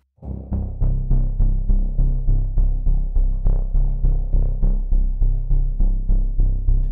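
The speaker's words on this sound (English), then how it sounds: "Let's check out the rolling bass. it's a bass, let's go deep." A deep bass synth line rolls steadily in evenly spaced, throbbing pulses, loud and low, with no voices.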